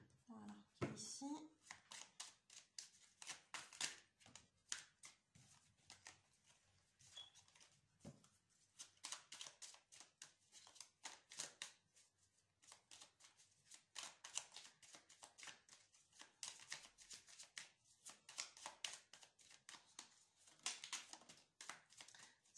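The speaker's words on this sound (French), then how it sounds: "Les cartes que je suis en train de battre" Oracle cards being shuffled by hand in a long, rapid run of crisp riffling flutters, close and fairly loud, with brief pauses between bursts.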